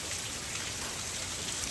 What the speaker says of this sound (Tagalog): Hala, grabe yung ulan, 3 days na non-stop.